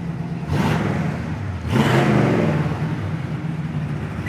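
A 1972 Oldsmobile Cutlass S engine with dual exhaust rumbles steadily with a deep exhaust note, revving up twice in quick surges before settling back to a throaty idle.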